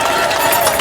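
A dense wash of clapping from a church congregation fills the moment, loud and continuous, with voices mixed into the applause.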